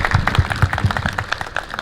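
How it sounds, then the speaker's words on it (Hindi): Hand-clapping applause from a seated group at a faculty dinner party of a university campus, steady and fairly close, running for about two seconds with a few scattered louder claps. "तालियां"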